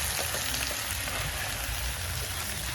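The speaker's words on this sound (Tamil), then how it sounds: "சக்தி பிஸியா வதக்கி கொண்டிருக்கிறார்." Crab sautés in a pan with a dense, continuous sizzle like light rain, heard at moderate loudness from close by, steady throughout with faint stirring underneath.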